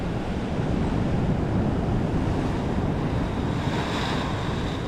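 An ocean wave surges up the shore at a fishing spot, a loud, continuous rushing wash of surf with wind buffeting the microphone throughout, with no voices.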